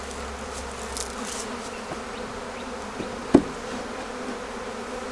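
Honey bees swarming around a hive in a beekeeping setting, a dense steady buzz close by, with a single soft knock partway through.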